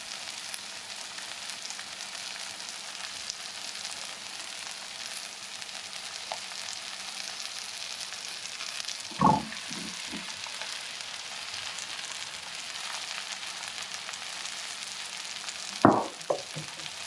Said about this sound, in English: You put the rice in on top of this.